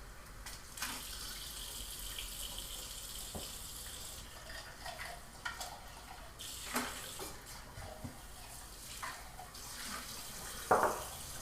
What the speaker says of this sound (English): can you rinse that for me too?